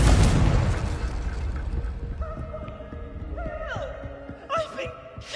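Confringo explosive spell cast in Hogwarts Legacy, a loud booming blast at the start that rumbles and fades, followed by ringing tonal tails and scattered clattering impacts.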